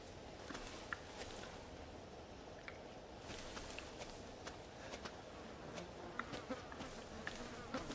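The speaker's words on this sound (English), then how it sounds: "Just a bunch of mosquitoes." Mosquitoes buzzing in the Resident Evil 7 video game, a faint continuous insect drone with scattered soft ticks and clicks, steady and quiet throughout, with no talk.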